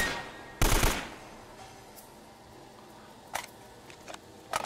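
A single sharp gunshot from a gun in Uncharted cracks out loudly, followed by a few fainter, spaced impacts against a quiet background.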